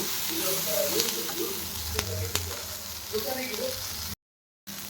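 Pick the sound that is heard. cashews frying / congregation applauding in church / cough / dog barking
cashews frying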